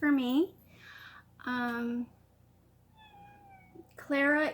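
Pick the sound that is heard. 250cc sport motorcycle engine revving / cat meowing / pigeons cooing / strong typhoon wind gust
cat meowing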